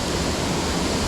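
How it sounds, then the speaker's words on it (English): Creek water pours over a small weir dam on a trout stream, making a continuous, close, even rushing hiss. "Sweet little weir dam right here."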